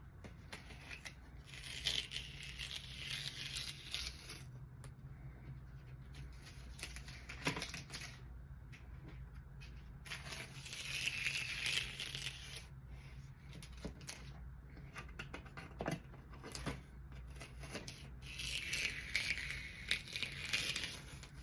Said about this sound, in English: just start taking the tape off gently, because you know this is paper and it can tear.